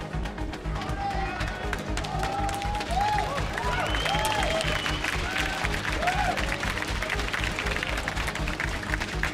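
A dense esports arena crowd at an EU LCS 2018 League of Legends match, G2 Esports versus Misfits, roars and applauds steadily with scattered whoops and shouts, a continuous wash of cheering and clapping that swells slightly midway.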